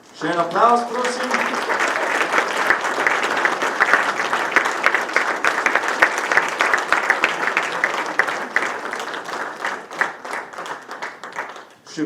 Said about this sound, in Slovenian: Še en aplavz, prosim.